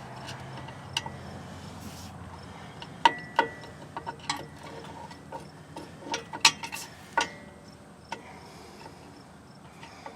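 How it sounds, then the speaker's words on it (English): A ratchet with a 17mm socket breaking driveshaft bolts loose on a Nissan Titan, heard as sharp, irregular clicks and metallic snaps scattered over a quiet background, some louder and close. "I'm going to break all 4 of those bolts free"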